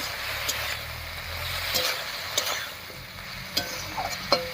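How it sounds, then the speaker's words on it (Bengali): Chana dal and pumpkin greens sauté in a pan, giving a steady hiss and sizzle. A spatula scrapes and stirs through them with scattered clinks, and a low rumble sits in the background. "এবারে সব কিছুর সঙ্গে একটু কষিয়ে নিচ্ছি"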